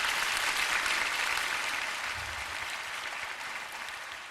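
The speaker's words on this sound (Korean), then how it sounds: "우리 응원의 박수 한번 보내주시기 바랍니다" Warm, sustained applause from a gathered congregation cheering on exam students, their parents and teachers. The dense clapping starts full and gradually thins toward the end.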